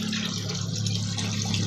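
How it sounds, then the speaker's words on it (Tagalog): Strong running water rushes in a steady, close, broadband stream, unbroken throughout. "Kusog ang tubig guys."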